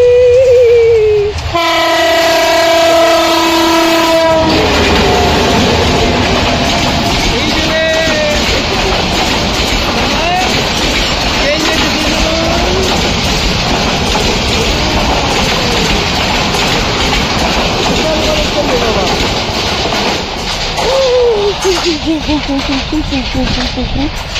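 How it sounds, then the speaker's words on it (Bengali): A train sounds its horn in a long blast, then rumbles loudly past up close, wheels clattering steadily, with people talking nearby throughout. "এই যে ট্রেন আসছে বাবা"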